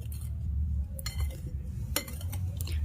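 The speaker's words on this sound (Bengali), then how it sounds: "এবার একটি হ্যান্ড উইচ দিয়ে আমি খুব ভালো করে শুকনো উপকরণগুলো মিশিয়ে নিচ্ছি।" A hand whisk stirs dry ingredients for teler pitha batter in a bowl, giving light, scattered metallic clinks over a steady low background hum.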